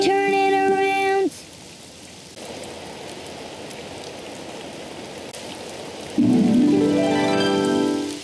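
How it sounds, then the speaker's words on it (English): Steady rain falls outside as a continuous hiss between sung melodic tones at the start and end, moderately loud throughout. "It's raining outside."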